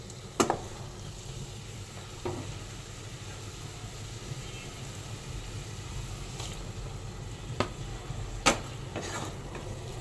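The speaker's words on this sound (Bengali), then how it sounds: "মশলাটা কষিয়ে নিই।" Small shrimp with coriander powder and spice masala frying quietly in a pan, a low steady sizzle broken by a few sharp clinks of a spoon against the pan; close but faint, no talking.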